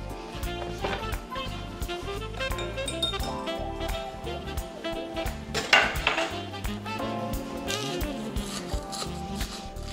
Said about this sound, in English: So I'm actually gonna grab a wooden spoon,